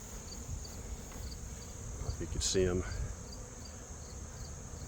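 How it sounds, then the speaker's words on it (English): Honeybees fly around hives on a sunny late-summer afternoon, a steady close buzzing hum running throughout while a person speaks briefly in the middle. "All the bees are flying really well."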